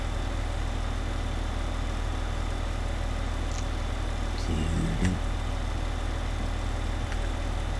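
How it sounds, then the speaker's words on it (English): A John Deere tractor in Farming Simulator 15 idles steadily, a low constant diesel rumble with faint clicks and a short blip partway through. "This is a really nice little tractor, this John Deere."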